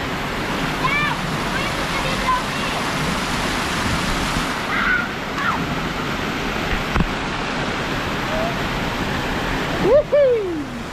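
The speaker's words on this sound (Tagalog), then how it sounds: "Ang saya ng mga bata nakaligo ng ilog." River water rushes steadily as children swim and play, a continuous broadband flow close by, with shouts and squeals from the kids and adult voices talking over it.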